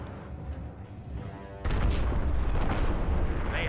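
A cargo ship explosion in Star Wars Battlefront's Scarif mode hits abruptly, giving way to a loud, sustained rumbling roar with crackling debris after a quieter stretch of game ambience.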